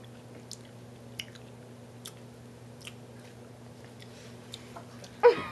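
Close, faint wet chewing of peanut butter with pickle comes in soft intermittent smacks over a low steady hum, ending with a louder thud.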